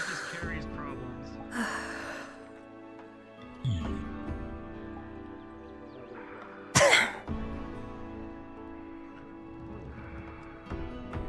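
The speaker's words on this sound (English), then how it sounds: "Still coughing the rest out." A person in a roleplay game coughs and clears their throat in a few rough bursts, with a sharp loud cough near the middle and quieter breathy sounds around it.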